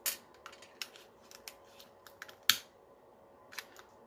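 Scissors snipping ribbon for an Easter basket: a string of crisp, close metallic snips at irregular intervals, with one sharper cut standing out, over a quiet background.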